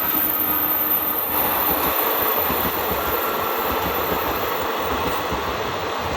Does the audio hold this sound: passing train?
yes